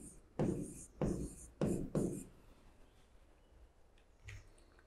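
A pen scratches out an answer on a maths worksheet in four short, brisk strokes close by, followed by quiet room tone with no speech.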